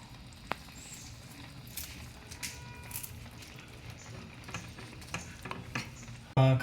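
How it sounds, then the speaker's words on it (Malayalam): Pepper chicken with freshly added curry leaves stirred in a pan, soft irregular scraping and light sizzling under faint background noise, ending with a brief louder bump. "ഇനി നമ്മളിതിലേക്ക് കുറച്ച് കറിവേപ്പില ആഡ് ചെയ്തിട്ട് അതൊന്ന് ഇളക്കി യോജിപ്പിക്കും."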